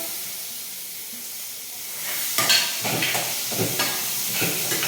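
Vegetable peels drop into a hot pan of fried spices, setting off a loud steamy hiss and sizzle that swells halfway through and continues with crackling frying and stirring, close up.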